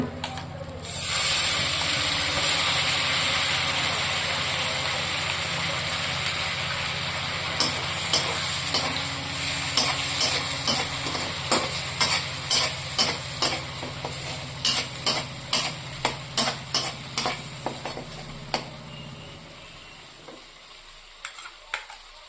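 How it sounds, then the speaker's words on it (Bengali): Spinach paste stirred into frying prawns in a pan: a loud steady sizzle and hiss with a run of sharp, regular spoon scrapes and taps through the middle, then fading to quiet at the end. "আমি যে পালং শাকের পেস্টটা করে রেখেছিলাম সেটা দিয়ে দেব।"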